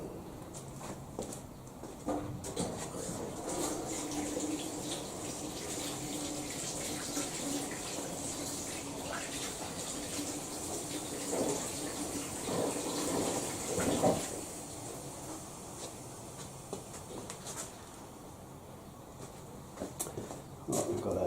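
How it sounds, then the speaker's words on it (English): Hot water runs from a tap over a chemically blued metal part being washed, a steady splashing gush that continues for the whole stretch, with brief clatter and shifts in the flow. "I'm just going to wash this in the hot water"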